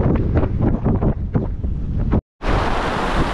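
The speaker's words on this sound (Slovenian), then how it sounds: "Že piha." Strong wind of about 35 knots roars over a sailboat at sea, buffeting loudly and steadily with heavy gusts. A brief dropout near the end is followed by an even louder rush.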